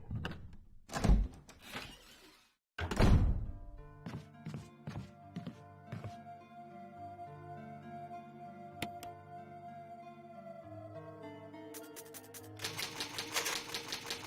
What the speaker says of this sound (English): Oh, typewriters.